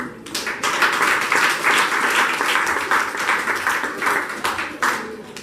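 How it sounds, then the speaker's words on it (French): An assembly applauds a teacher at a camp gathering, dense steady clapping from many hands filling the room for several seconds with a few sharper claps standing out near the end. "nous demandons à l'Assemblée d'applaudir chaudement le professeur Maître Julio pour son travail durant ce mois"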